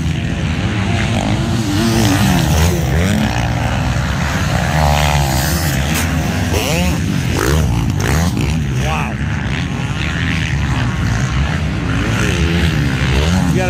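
A 2022 GasGas 450 MC dirt bike races at full throttle during a pro-class race, its engine roaring loud and steady throughout with rising and falling pitch, mixed with crowd and commentator voices talking over it.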